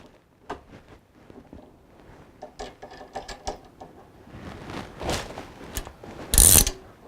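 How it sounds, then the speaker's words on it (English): A lock knob on a Rultract coupler is turned and seated into its detents, giving a series of small clicking, ratcheting metal sounds close by, ending in a sharp loud click. "make sure that this lock knob is also tightened down into one of the detents or holes."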